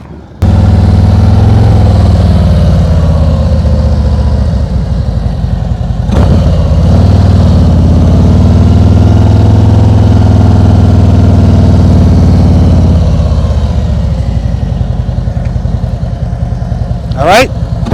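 A motorcycle engine runs at slow speed during advanced slow-speed riding practice, a loud steady low idle-like drone close by, with someone talking over it and a couple of brief clicks.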